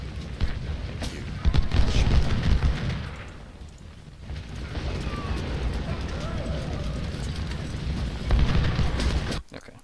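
American Civil War battle at Gettysburg in Ultimate General: Civil War, with dense musket volleys and booming artillery rumbling continuously. The fire is heaviest early and near the end, and a voice speaks over the din.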